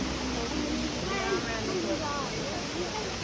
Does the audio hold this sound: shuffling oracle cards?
no